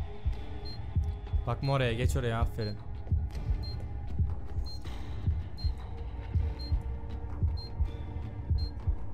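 A steady, throbbing heartbeat pulses through a tense stealth scene in the video game Fahrenheit (Indigo Prophecy), thudding on under game sounds while someone talks over it.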